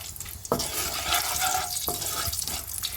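Potatoes fry in oil with salt and turmeric in a pan, a dense continuous sizzle broken by two brief stirring scrapes.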